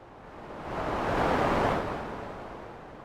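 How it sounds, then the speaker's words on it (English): Broadband white noise from an Elta Music Polyvox PF3 stereo filter, a steady hiss that swells gradually to a peak mid-way and then eases back down, heard alone. "we have white noise,"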